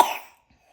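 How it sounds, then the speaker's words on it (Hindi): A single short cough from a small child, close and sharp, fading quickly into near silence. "मेरे बच्चे को खांसी हो रही है"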